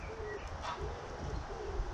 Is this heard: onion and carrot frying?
no